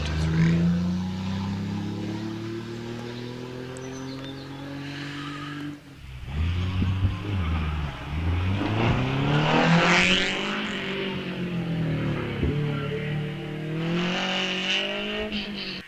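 A vintage racing car engine revs hard at a hillclimb, its pitch climbing, dropping sharply at a gear change into second, then rising again as it accelerates close by.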